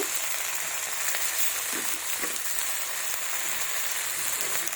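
Chopped tomato goes into a fish and potato curry frying in a pan, and a steady, dense sizzle fills the whole stretch with a couple of soft low bumps as the pieces land.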